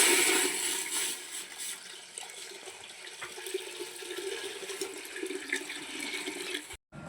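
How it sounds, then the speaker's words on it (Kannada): Water gushes steadily into a cooking vessel set up to boil basmati rice for fish biryani, a continuous pouring rush that runs for several seconds before cutting off abruptly. "ಈಗ ಇದಕ್ಕೆ ನೀರು ಹಾಕೊಳ್ಳೋಣ"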